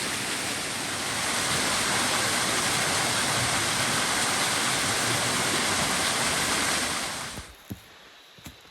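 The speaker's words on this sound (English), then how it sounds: "the water is flowing, thank God" Steady broadband rush of water spilling over a small waterfall ledge on the Fiery Gizzard Trail in Tennessee, loud and continuous for about seven seconds before cutting off to near quiet with a few faint knocks.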